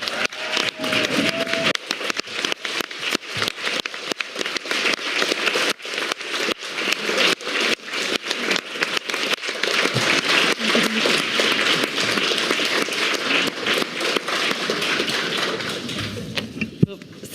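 Sustained audience applause at a European conference on sex workers' rights, a dense, steady wash of many hands clapping that carries on at even loudness for the whole stretch, with only a short muffled voice near the start.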